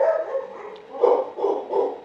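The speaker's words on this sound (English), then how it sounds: "sorry for the barking." A dog barks in a few short bursts, moderately close, over a low steady background hum with no talking.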